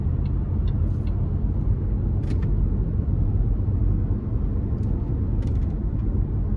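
A 2011 Range Rover Sport HSE with the 5.0 V8 in command shift mode accelerates onto an interstate, its steady loud engine rumble and road noise filling the cabin without a break, no clear gear changes standing out.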